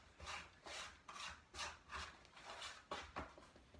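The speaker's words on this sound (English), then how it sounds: "Oh, I should get my handy scraper thing. Scrape this up." Close, faint rhythmic scrapes of a bench scraper gathering scalded rye bread dough off a work surface, about eight short rasping strokes in irregular succession.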